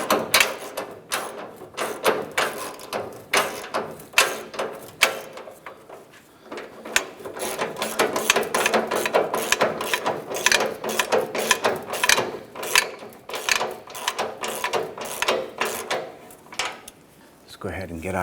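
A hand ratchet clicks in fast, steady runs while tightening the fuel tank strap mounting nut on a Chevrolet S10, close and continuous with brief pauses between strokes.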